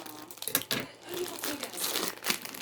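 A delivered cargo parcel is cut open and unpacked, with close, sharp crinkling and tearing of packaging in quick bursts while someone talks over it.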